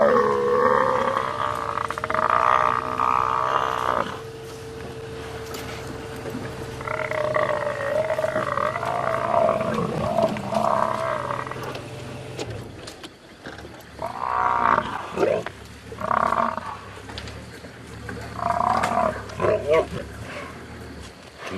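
Lionesses attacking a Cape buffalo at night in the wild, with deep roars, grunts and bellows rising and falling close by over about twenty seconds, some bursts louder than others.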